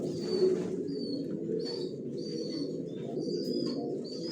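Racing pigeons coo softly and continuously inside a loft, a low steady murmur of several birds with occasional higher chirps over it.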